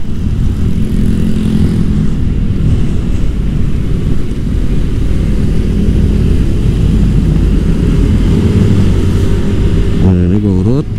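Vespa GTS 150 scooter engine with the throttle twisted hard, a loud, steady drone that climbs slowly and builds rather than snapping up, with a brief rising whine near the end.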